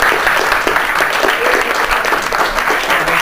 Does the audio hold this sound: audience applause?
yes